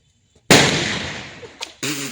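Diwali firecrackers go off in a sharp, loud close bang followed by a crackling decay, with a smaller pop and another burst moments later.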